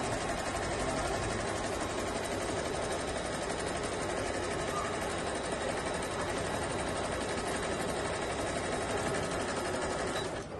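A Brother sewing machine running a zigzag stitch, a steady, continuous close whirring hum held at an even level throughout with no pauses.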